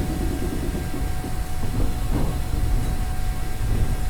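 A train in the Trans-Siberian Railway Simulator game comes under emergency braking with a continuous loud rumble and hiss, a steady metallic squeal running through it, and no voices.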